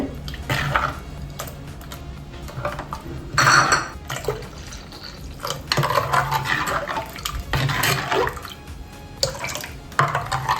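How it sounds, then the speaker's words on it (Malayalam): Water splashes and trickles into a fish curry pot among clinks of utensils and metal cookware, with steady kitchen background noise. "നമുക്ക് ഇനി വെള്ളം ഒഴിച്ച് കൊടുക്കാണ്ട്"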